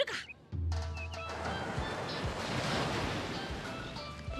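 Ocean waves surge and wash in a video game seascape. The surf is a broad, continuous rush that swells after a short tonal cue at the start and carries on steadily.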